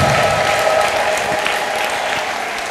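A church congregation at a prophetic service claps loudly and steadily, with a sustained high ululation running through the thick, close wall of applause.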